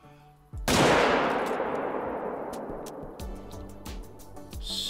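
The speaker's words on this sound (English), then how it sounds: "Let's see if we can take a long distance shot here." A long-distance hunting rifle shot in a hunting game, one sharp loud crack that rolls into a long fading echo, followed by faint clicks and clatter.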